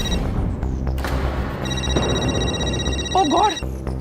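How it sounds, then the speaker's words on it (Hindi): A telephone rings in a household scene from a Hindi TV sitcom, a steady electronic ring running for about two seconds over background music and voices. "नायर जी का फोन आ रहा है"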